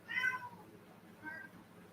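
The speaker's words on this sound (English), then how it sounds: "I got a meow meow kitty." A cat meows twice, a clear nearby meow followed by a softer one about a second later, over a quiet room.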